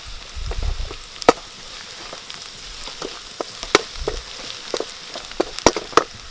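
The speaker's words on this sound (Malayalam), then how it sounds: "അതിനകത്ത് നമുക്ക് ശകലം കറിവേപ്പില ഇട്ട് കൊടുക്കാം." Curry leaves hitting hot oil with softened onion and ginger for a banana stem cutlet, a steady low sizzle broken by sharp crackling pops scattered irregularly throughout.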